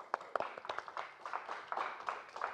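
Scattered hand clapping from a comedy roast audience, faint and distant, with individual claps standing out in an uneven, rhythmic patter.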